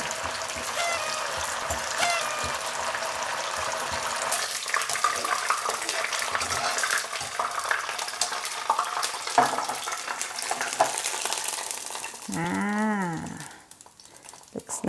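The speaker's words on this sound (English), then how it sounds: "Deep fry, if you want to do something crispy, you have to add a lot of oil." Food deep-fries in a lot of hot oil in an iron wok, a steady, loud sizzling hiss that lasts almost the whole time, then a brief, low, wavering moo-like call near the end.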